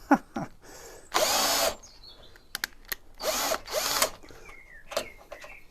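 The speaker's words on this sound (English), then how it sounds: "my drill's not quite got enough oomph." A power drill whirs in short, straining bursts separated by pauses while working on a crashed Fiat 500 Abarth, with clicks and small clatters in between.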